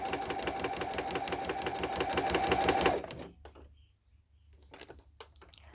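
Sewing machine stitching a vinyl project bag, a fast even run of needle clatter for about three seconds that stops abruptly, followed by a few faint handling clicks and taps.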